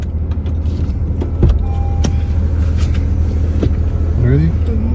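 Inside a car, a steady low engine and road rumble continues throughout, with a few short clicks and rustles near the microphone and a brief tonal whine toward the end.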